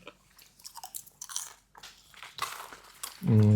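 Crisp crunching and chewing of sour cream and herb flavored popcorn close to the mic, irregular bites building to a louder burst at the end.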